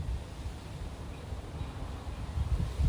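Steady low rumbling gusts of wind buffet the microphone, a constant outdoor whoosh that swells slightly toward the end.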